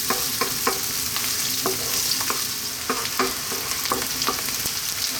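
Garlic and onion fry over above-medium heat, a steady sizzle broken by regular scraping stirs of the pan, close and alone with no talk.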